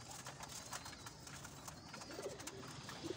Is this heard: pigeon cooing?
yes